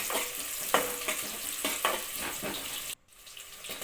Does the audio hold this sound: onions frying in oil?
yes